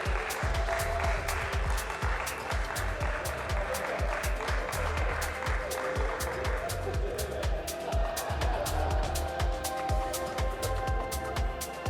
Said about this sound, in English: let's keep clapping, let's keep cheering them